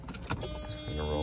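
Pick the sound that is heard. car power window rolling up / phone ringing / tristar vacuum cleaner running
car power window rolling up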